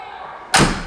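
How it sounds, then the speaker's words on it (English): A single loud, solid slam as the metallic door of a 1991 Mercedes Unimog is shut up close, a heavy thud that rings briefly and then fades. "They always had metallic door sounds that would sound very solid and well built"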